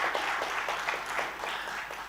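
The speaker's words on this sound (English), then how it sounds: "So huge round of applause to the audience as well." Audience applause at a corporate quiz final, a steady wash of many hands clapping with gentle rhythmic swells throughout.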